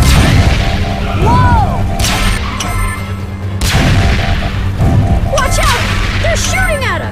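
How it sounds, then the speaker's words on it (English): Cartoon gunfire and blasts aimed at the Rescue Bots in a Transformers animated episode, loud repeated bangs and crashes over a busy score and sound effects, with characters shouting under the action. "They're shooting at us!"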